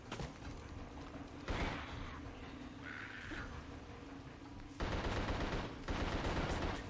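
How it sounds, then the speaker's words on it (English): A Tommy gun fires in bursts in the PS2 horror game The Suffering, with dense, loud rapid fire in several stretches separated by quieter game ambience. "Hey, Tommy gun."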